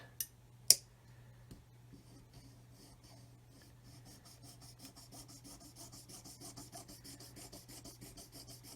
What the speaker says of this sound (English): we've got that scribe line there previously, which the saw is following.